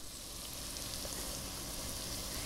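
Minced garlic cloves sizzle in a hot pan, a steady close frying hiss that holds evenly with no voices.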